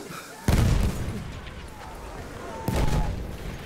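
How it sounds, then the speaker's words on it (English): Two heavy booms from explosions and gunfire in the video game Battlefield 1, each a sudden loud blast that rolls into a rumbling tail under constant battle noise. "They've put way too many explosions."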